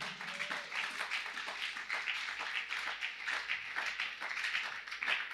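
A church congregation claps and applauds together, a steady dense patter of many hands sustained throughout at an even level, with no speech over it.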